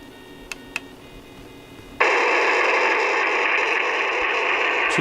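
A Sony ICF-SW100 compact shortwave radio gives a couple of faint clicks, then abruptly bursts into loud, steady hissing static while being tuned, with the noise holding continuously to the end.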